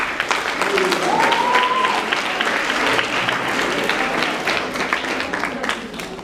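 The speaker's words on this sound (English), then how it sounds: "let's give ourselves a huge round of applause" Audience applause fills a school assembly hall, dense steady clapping from many students holding at full level throughout, with a brief whistle-like tone and faint voices mixed in.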